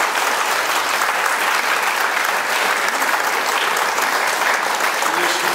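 Loud, dense applause from a concert audience for a folk band and soloists in Siedlce, continuous and even throughout without pause.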